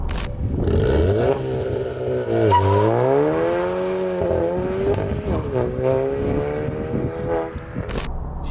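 A Seat Leon FR with a modified Stage 1 setup, 63 mm exhaust piping and downpipe revs loudly and close by, its engine note climbing and falling in smooth sweeps over several seconds with no talking.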